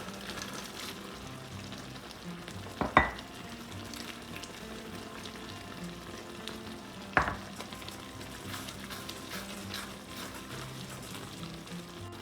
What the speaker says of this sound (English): Now we'll add cashews and raisins.